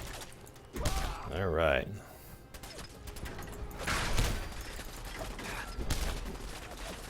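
Gunfire in a survival-mode video game comes as bursts and crashes with a mechanical rattle, moderately loud, while a player speaks briefly over the action.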